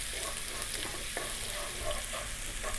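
Ginger and garlic fry in hot corn oil over maximum heat for a Chinese chicken broccoli dish, making a dense, even sizzle with light stirring taps, close up.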